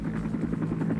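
A military helicopter in the Vietnam War lifts off, its rotor thumping in a fast, steady pulse with a droning engine hum, loud and close.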